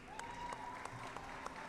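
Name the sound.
audience applause for the Phoenix Suns rookies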